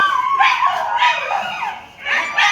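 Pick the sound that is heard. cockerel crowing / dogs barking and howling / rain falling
dogs barking and howling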